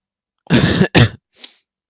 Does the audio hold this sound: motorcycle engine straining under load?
no